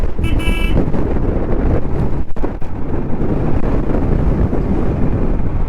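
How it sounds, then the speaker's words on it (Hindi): Strong stormy wind roars continuously into the microphone while riding a motorcycle on a mountain pilgrimage route in the rain, a loud, unbroken buffeting rush with no speech. "ये पीछे से हवा आ रही है"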